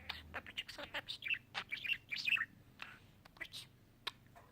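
A pet budgerigar chirps and twitters indoors in a rapid series of short, high, close calls, fairly faint overall, with bits of a person's soft voice mixed in.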